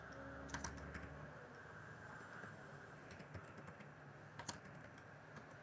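Keystrokes on a computer keyboard while text is entered in a letterhead design program, with light scattered clicks and a few quicker bursts over a steady background hum, fairly faint and with no talking.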